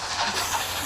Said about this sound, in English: I'll stop the train